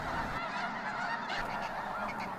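Geese honk in a dense, continuous chorus over a wildlife refuge at sunset, many overlapping calls from a large flock, moderately distant and without pause.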